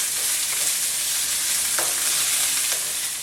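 Frozen peas being stirred into samosa filling in a hot pan, a steady broadband sizzle of frying with a few soft scraping strokes of the spoon, close and continuous without talk.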